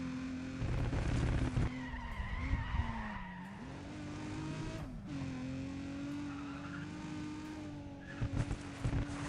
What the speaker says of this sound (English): Why do all of these cars just sound so muted?